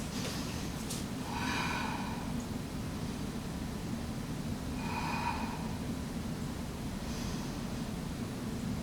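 Slow, deep breaths during a yoga flow, three audible inhale-exhale swells spaced a few seconds apart over a steady background hiss.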